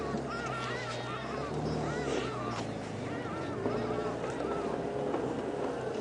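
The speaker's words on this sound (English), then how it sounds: "You can hear the bird's alarm calling" Birds giving alarm calls on a safari drive, repeated squawking calls over a steady rumble of a vehicle engine and outdoor noise, moderately distant.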